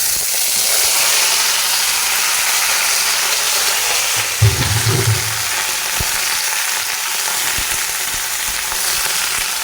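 Steamed cauliflower and other vegetables fry in a pan with five-spice seeds and dried chillies, giving a loud, steady sizzle throughout with a brief burst of stirring near the middle.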